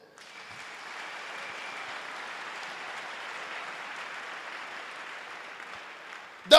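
A church congregation applauds the Lord during a sermon, a sustained, even wash of many hands clapping that holds steady for several seconds before a sharp sound at the very end.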